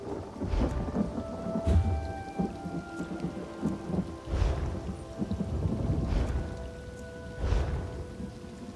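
A video game thunderstorm in Elder Scrolls Online: steady heavy rain with repeated rolling thunder rumbles and sharp cracks, several in a row, loud and close.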